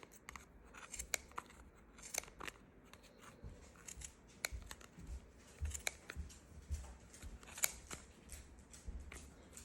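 Scissors snip repeatedly through wound yarn on a Clover pom-pom maker, a run of crisp, close cuts that fall at uneven intervals over a faint, quiet background with no talking.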